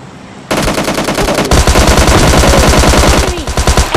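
Rapid automatic gunfire in PUBG Mobile Lite, loud, close bursts of fast repeated shots that start suddenly and continue almost without pause, with a brief thinning near the end.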